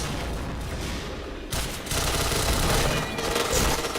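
Rapid gunfire from the PointBlank shooter game crackles in dense bursts, loud and continuous, with a sharp jump in intensity partway through and no clear talk.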